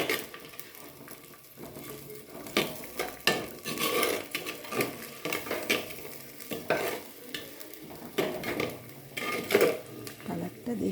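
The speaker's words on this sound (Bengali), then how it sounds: "এরপর কিছুক্ষণ নেড়ে কষিয়ে নেব ভালো করে" Food being stirred and sautéed in a clay pot over a gas flame, with repeated scraping strokes and a steady sizzle underneath, close and moderately loud, with intermittent talk.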